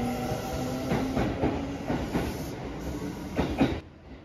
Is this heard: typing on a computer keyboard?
no